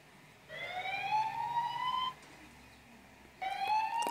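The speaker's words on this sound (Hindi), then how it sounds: "ये अलार्म जो है बजना स्टार्ट हो चुका है" An anti-theft app siren alarm on a phone sounds in two bursts, a rising electronic wail that cuts off after about a second and a half, then starts again after a pause.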